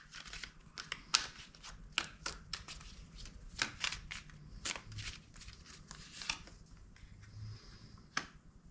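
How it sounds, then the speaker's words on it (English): Tarot cards shuffled and drawn from a deck, a steady run of crisp, close paper riffles and flicks that fill the whole stretch with no talking. "I'm going to draw one more card before I try to interpret those two cards."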